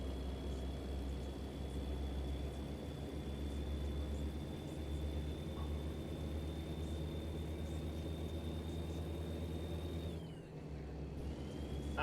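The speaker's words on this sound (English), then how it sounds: "there's a slight rumble, like if you were driving" A steady low truck engine rumble in the video game American Truck Simulator hums continuously with a faint high whine above it, even and unbroken throughout.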